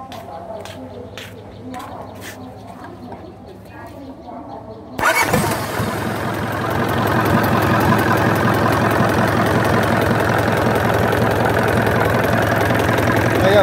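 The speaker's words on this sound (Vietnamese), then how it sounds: "mình sẽ đề máy nổ cho anh em nha" Isuzu 4JB1 diesel engine on a 1993 Japanese excavator cranks and catches at about five seconds, then settles into a loud, steady idle with a continuous rumble, after a quieter stretch of low background noise.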